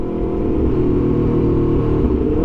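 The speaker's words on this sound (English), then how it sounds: "That's auto blipping." A 2023 Aprilia RSV4 Factory motorcycle engine runs with a deep, steady rumbling drone and slight rises in pitch as it shifts, loud and close, with no voices.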